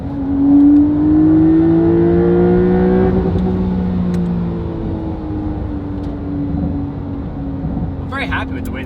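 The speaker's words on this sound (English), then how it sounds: "Just impressed at how much this changed the way the car sounds throughout the rev range." A Porsche 992 Carrera fitted with a Valvetronic Designs titanium exhaust and OEM downpipe revs loud and close, its pitch climbing and then easing back down, with a few sharp pops near the end.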